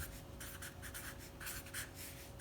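Pen strokes scratch across paper in quick rhythmic bursts, close and quiet, over a faint steady hum.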